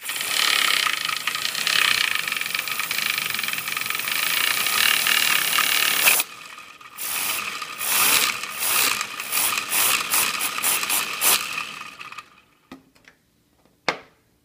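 Working LEGO turboprop driven by a garage air compressor, giving a dense whirring hiss for about six seconds, then a choppy, ratcheting clatter of bursts that slows, fades and ends with a sharp click.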